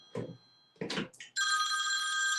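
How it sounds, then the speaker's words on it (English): A telephone bell starts ringing loudly and keeps going without pause, after two short bursts of sound just before. "I think I'm getting a phone call now."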